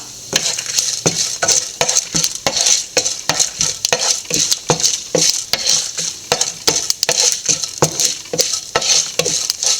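Dried red chillies and small onions frying in a pan, a constant sizzle broken by quick, rhythmic spoon scrapes against the metal, loud and close.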